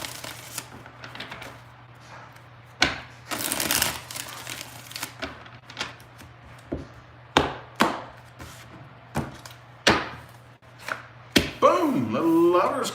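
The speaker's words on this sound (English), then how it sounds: "2 more shuffles." Tarot cards being shuffled, sharp repeated taps and riffles in an uneven rhythm, close and crisp over a low hum, ending with a brief voice.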